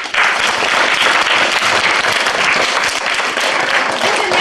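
Audience applause greeting a performer at a live event in Pančevo, a loud, sustained burst of many hands clapping that starts abruptly and stays dense and even.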